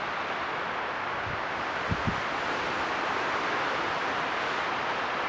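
Strong wind sways woodland trees on a camping trip, producing a broad, constant rush of rustling leaves and gusty air with a few faint knocks partway through, no voices.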